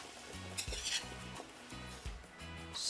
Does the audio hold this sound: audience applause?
no